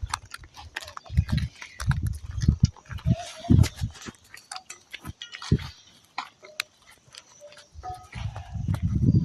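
A mare walks up to drink water at a farm, her hooves clopping in irregular bursts of low thuds while livestock and calves move around nearby.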